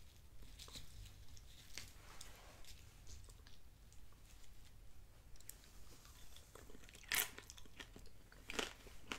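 Chick-fil-A chicken tortilla soup being eaten up close, soft chewing and crunching of tortilla strips, quiet and intimate with a few sharper crunches near the end.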